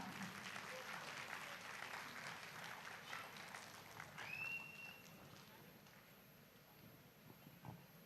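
An audience at a freshers' welcome event applauds in a broad, sustained patter that slowly fades, with a brief whistle and some voices mixed in.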